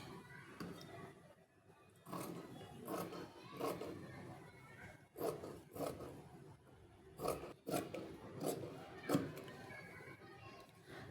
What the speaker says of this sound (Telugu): ఈ లైన్స్ ప్రకారం ఫ్యాబ్రిక్ని కటింగ్ చేసేసుకుందాం